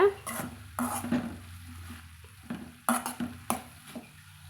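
A metal spoon scrapes and clanks against a pan while broad bean avial is stirred, giving a series of sharp, close knocks and scrapes with short quiet gaps between them.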